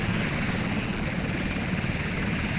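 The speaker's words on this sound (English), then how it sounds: "The helicopter descends to 20 feet." An SH-3 helicopter descends to hover at low altitude in the naval combat game Sea Power, a loud, continuous rotor and turbine roar with a dense, steady beating texture throughout and no talk.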